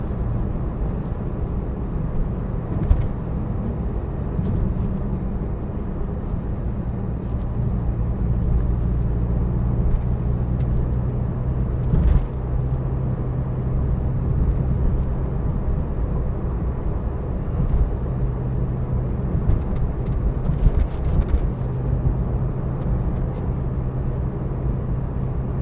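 Porsche 991 cruising at about 30 mph over a bumpy road, a steady low cabin rumble of engine and tyres with occasional soft thumps from the bumps.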